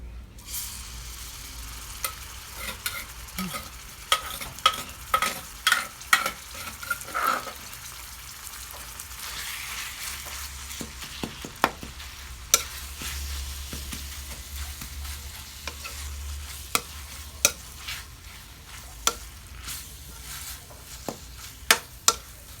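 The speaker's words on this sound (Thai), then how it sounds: "ผัดเครื่องแกงนะคะผัดพริกแกงหรือว่า ไอที่เขาโขกเมื่อกี้นะคะ เราจะเอาลงไปผัดให้มันหอมนะคะ" Curry paste is stir-fried in a pan for a Thai mahae curry with seafood, giving a soft continuous sizzle with scattered sharp clicks and scrapes of a utensil stirring against the metal, fairly quiet and without speech.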